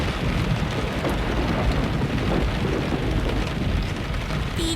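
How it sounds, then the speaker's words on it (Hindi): Steady, heavy rain pours down in a dense, even wash of sound with no break, filling the whole scene at a constant loudness and with no voices over it. "बारिश हो रही है"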